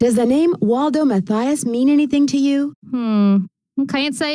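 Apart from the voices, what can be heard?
No everyday noise stands out behind the speech.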